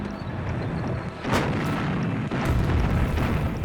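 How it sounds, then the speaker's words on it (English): A Soviet artillery bombardment opening Operation Uranus at Stalingrad in fog and snow, with heavy guns booming in a few deep, rumbling blasts over a constant low roar. "Вот наша артиллерия заговорила и в течение 30 минут долбила по немецким позициям."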